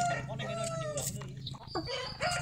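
Chickens cluck and squawk close by in short, irregular calls, with a rooster-like crow mixed in.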